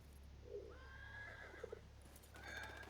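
A horse neighing in Battlefield 1, a drawn-out whinny with a second cry following, quiet and somewhat distant over low background rumble, with a couple of soft hoof clops between.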